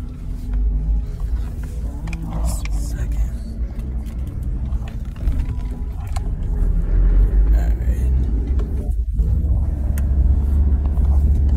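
A car drives up a mountain road, its steady low engine rumble and road noise continuous and fairly loud from inside the cabin, swelling slightly toward the end.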